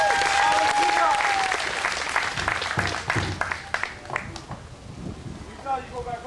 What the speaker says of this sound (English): Have a round of applause, ladies and gentlemen.